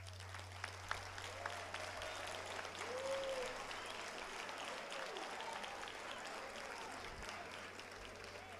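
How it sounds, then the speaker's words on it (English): Applause for teachers from an audience in a hall, a fairly faint, continuous patter of many hands clapping over a low steady hum, with a few voices calling out. "That was a good round of applause"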